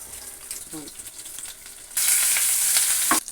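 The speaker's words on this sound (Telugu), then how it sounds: "నూనె పెట్టి తాలింపు చేసుకోండి" Tempering for a capsicum and peanut chutney hitting hot oil, a loud, bright sizzle bursting up suddenly after quieter clinks and lasting about a second before easing.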